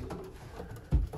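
A dark pigeon, a ten- or eleven-year-old cock bird in a breeding loft, gives a short low coo late in the moment, close and fairly loud against a soft background murmur.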